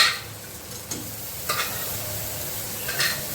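Boiled snails tossed with spices in a hot pan give a steady low sizzle, broken by three sharp spatula scrapes and stirs at irregular intervals, close and fairly loud with no voices.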